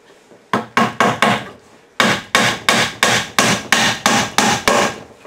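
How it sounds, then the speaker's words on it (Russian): Small nails tapped in with a hammer to tack a piece in place, a quick burst of four sharp blows, a pause, then a steady run of about nine evenly spaced close strikes. "Гвоздиками наживим, да и все."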